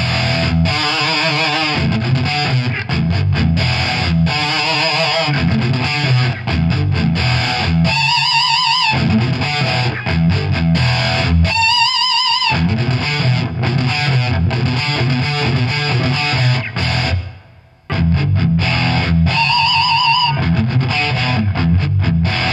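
Electric guitar played through a distortion pedal into a Marshall DSL amp, loud and gritty riffs with sustained crunchy chords and brief lead bends, one short gap near the end.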